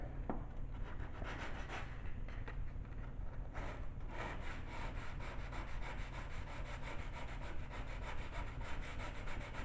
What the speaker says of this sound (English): so now I'm going to use 80 grit sandpaper, which is fairly aggressive,